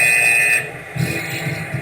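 An entrance buzzer gives one loud, steady electronic tone lasting about half a second, then stops, and muffled crowd noise follows.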